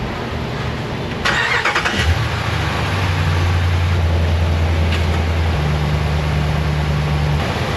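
An Audi A6 engine, just back together after a valve cover repair, cranks briefly and catches, then settles into a steady close idle with a slight shift in pitch partway through.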